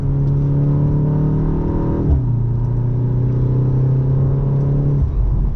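A 2025 BMW M235 Gran Coupe engine revs up strongly under acceleration, pitch climbing steadily, then drops briefly at a gear change before rising again through the next gear, loud and close inside the cabin.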